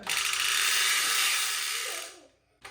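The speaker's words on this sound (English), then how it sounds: "that puts a little bit of tension on the tire and also gives a good buzz" A rapid, loud buzzing rattle of a bicycle wheel buzzing against the tire, like a card flapping against spinning spokes, steady for about two seconds before fading out, then a brief click.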